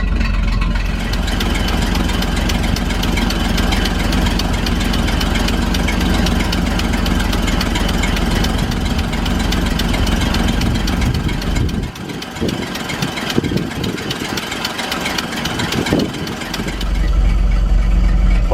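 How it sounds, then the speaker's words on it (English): An old GMC V6 truck engine idling after its spring startup, with a steady, loud, continuous rumble and mechanical knocking throughout and a brief change in tone near the end. "Just can't beat an old GMC V6"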